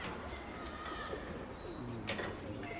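Pigeons coo near a dovecote beside an apartment block, a soft continuous cooing mixed with faint outdoor background noise and occasional brief higher calls.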